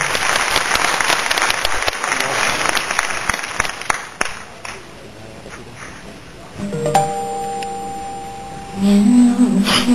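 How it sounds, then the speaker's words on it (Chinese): Audience applause at a Buddhist song composition contest in Malaysia, a burst of clapping that fades out, followed by soft instrumental tones as the song performance begins. "来掌声欢迎生命线"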